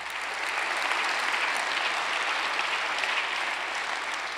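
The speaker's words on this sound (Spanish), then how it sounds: "denle un aplauso al Señor por ese privilegio que nos ha" A church congregation bursts into sustained, dense applause, an even wash of many hands clapping together at full strength throughout, with no pauses.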